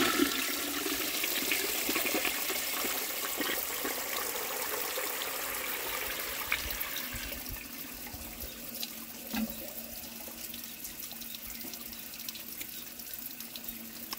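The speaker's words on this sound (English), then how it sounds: "Alright, tank's full, let's give it a second flush." An antique 1905 forward trap toilet flushes with a steady, loud rush of water that continues for the whole stretch, gradually settling into a softer refill trickle.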